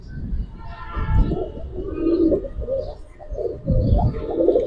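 Repeated low throaty cooing from pankhi pigeons, close and moderately loud, coming in several rounded phrases with short gaps between them.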